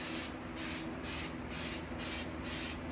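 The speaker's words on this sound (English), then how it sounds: "this is actually adhesive for upholstery, and it's supposed to spray a little bit better than this." A spray can of upholstery adhesive fires a quick series of short, loud hissing bursts at a steady rhythm, each puff close and sharp, with a low hum behind them and no talking.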